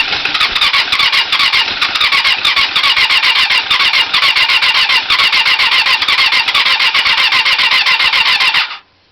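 A hard-starting motorcycle engine cranks and sputters at close range, rough and loud throughout, then cuts off abruptly near the end.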